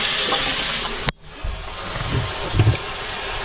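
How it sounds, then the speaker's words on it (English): Water runs from a kitchen sink faucet into a newly replaced drain: a steady close-up rush, broken by a brief silence, then resuming with a few low gurgles. "So let's run some water here."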